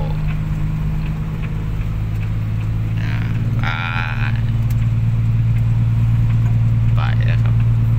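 A car engine drones steadily while the vehicle is driven on a paved road, a loud low rumble running throughout as voices talk over it.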